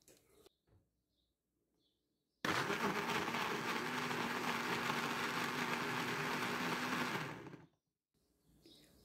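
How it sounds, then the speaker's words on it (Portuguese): Kitchen blender blending lemon juice switches on abruptly, runs with a loud steady whirring roar for about five seconds, then winds down to near silence with faint background chirps. "a gente vai ligar o liquidificador e vamos contar apenas 11 segundos batendo"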